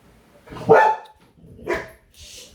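A dog barks twice, sharp and close, with a short gap between the barks and a faint rustle after them.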